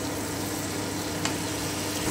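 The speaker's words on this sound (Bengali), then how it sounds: "আমি খুব ভালো করে একটু নেড়ে নিচ্ছি 2 থেকে 3 মিনিট" Tomato paste sizzles in a pan while being stirred over the heat, a steady close frying hiss with one faint scrape of the spoon, no voices.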